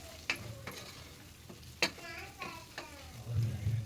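Coriander powder is stirred into a rice mixture frying in a pan, giving a soft sizzle under a few sharp scrapes and clicks of a spoon against the pan, close by with no voices.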